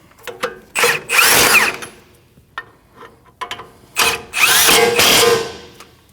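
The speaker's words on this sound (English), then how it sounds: "and install your 2 bolts. Tighten the 2 bolts." Power tool whirring and ratcheting in two loud bursts as it runs brake caliper bolts tight on a 2012-2021 Nissan NV2500 van, with short clicks and handling noises in between.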